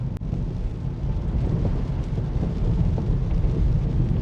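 Heavy rain drums on a moving car, a dense, constant roar of water and road noise that stays loud and unbroken throughout.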